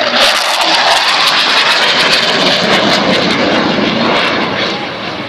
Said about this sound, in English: a hawker hunter named Misdemeanor, a fighter jet of the 1950s